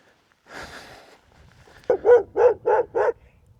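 A guard dog protecting a flock in the Andes gives five loud, close barks in quick succession, preceded by a softer, rougher vocal stir.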